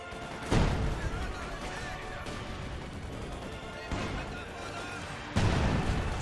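A grenade blast in the video game Company of Heroes 2 booms loudly amid ongoing battle noise, with several sharp explosive bursts standing out against a dense, rumbling combat backdrop.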